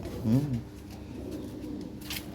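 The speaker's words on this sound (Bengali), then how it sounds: "এখানে এক জোড়া কবুতর আছে খুবই চমৎকার একটা পেয়ার" Lahore pigeons cooing softly in a pair, with a short low burbling coo near the start and quieter murmuring after over steady background noise.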